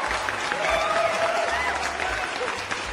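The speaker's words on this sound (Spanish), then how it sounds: "Con un fuerte aplauso recibimos a la doctora Paulina Mesa." Audience applause welcoming a guest onto a podcast, a brief steady burst of clapping with voices and a faint whistle-like tone mixed in.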